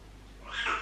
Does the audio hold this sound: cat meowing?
yes